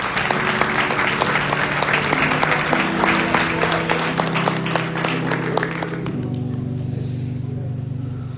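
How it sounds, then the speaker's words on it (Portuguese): A church congregation applauds the Lord during a worship service, steady loud clapping over sustained organ or keyboard chords, with the clapping thinning out near the end while the held chord continues. "Você pode aplaudir ao Senhor em nome de Jesus."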